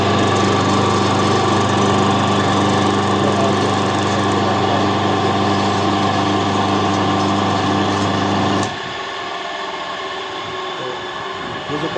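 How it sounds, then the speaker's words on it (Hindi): A 2 HP atta chakki (flour mill) electric motor, freshly rewound, runs with a loud steady hum and whine, then drops abruptly to a quieter running tone near the end. No one speaks. "अब मैं चलाता हूँ मोटर को।"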